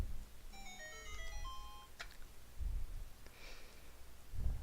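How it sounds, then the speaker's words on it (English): A mobile phone text message tone chimes as a short bright series of rising electronic notes. A couple of faint clicks and soft breathing follow against a low background hiss. "That was my phone."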